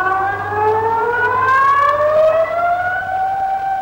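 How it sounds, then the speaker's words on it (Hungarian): A civil defense siren sounds the all-clear signal, wailing loudly on its own, its tones sliding slowly upward in a long, sustained sweep. "A feloldás jele 3x5 perces egyenlő sziréna hang."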